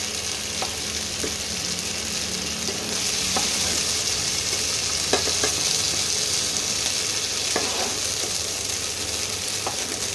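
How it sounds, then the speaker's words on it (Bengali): Continuous sizzling of beans frying in hot oil, with occasional clicks and scrapes of stirring; no voices. "এবারে শিমটাও হাফ ভাজা করছি"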